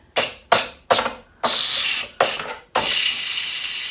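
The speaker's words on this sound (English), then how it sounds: "it's not going to release a ton of steam" An Instant Pot pressure cooker vents steam in a string of sharp hissing bursts, three short puffs and then longer sustained hisses, loud and close, the final one continuing steadily to the end.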